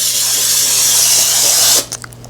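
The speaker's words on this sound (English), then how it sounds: "But you see how the pan's turning white as I'm spraying?" A close, hissing burst of cooking spray onto a baking pan runs steadily for under two seconds, then cuts off with a couple of faint clicks.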